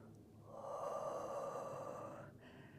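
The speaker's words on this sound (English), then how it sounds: "Inhale and exhale" One soft, long breath drawn and released during a Pilates roll-up, faint and close, lasting about two seconds in a quiet room.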